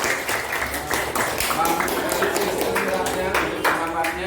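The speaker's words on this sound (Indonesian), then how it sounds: "beri tepuk tangan untuk Sisil" A class breaks into applause for a student named Sisil after she reads a letter to her best friend, with dense clapping from a room of people and voices talking over it.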